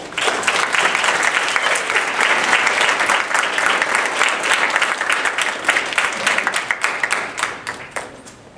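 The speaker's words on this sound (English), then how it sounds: "another round of applause" Audience applause at a school honor society induction ceremony, loud sustained clapping from a large crowd with individual claps standing out near the end as it tapers off.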